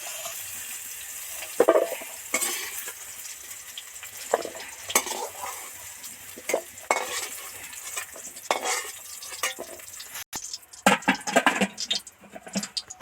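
Potatoes and pointed gourd deep frying in oil in a wok, a steady crackling sizzle broken by scraping stirs and clinks of a utensil against the pan, with no talking.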